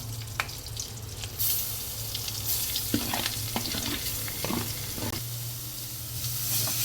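Beetroot is stirred and sautéed in a pan of oil after a curry-leaf tempering, sizzling steadily with scattered scraping clicks of the spoon throughout.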